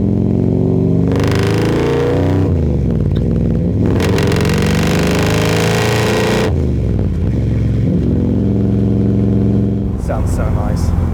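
A 1955 Chevrolet Del Ray engine revs hard several times, rising and falling loudly up close, with a deep rumbling idle between throttle blips.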